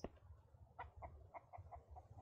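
Chicken clucking in the survival video game Mist Survival: a series of soft, short clucks in an uneven rhythm, faint and distant over a low ambient rumble.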